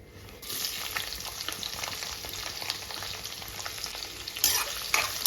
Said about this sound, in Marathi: कांदा थोडासा गोल्डन होईपर्यंत आपल्याला आता फ्राय करून घ्यायचं